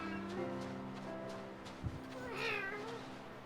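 A voice imitates a cat's meow in a high, feminine pitch, a drawn-out rising and falling call over a steady background hum, with a brief low thump partway through.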